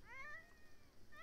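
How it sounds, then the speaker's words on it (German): A small cat in The Sims 4 gives one drawn-out, rising-and-falling meow, quiet and alone, with no talk around it. "Kleine Katze."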